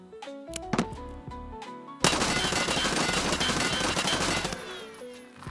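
A custom-built rifle in Escape From Tarkov, a game, fires a sustained rapid automatic burst, loud and close. A short melodic interface jingle plays before it and returns faintly near the end.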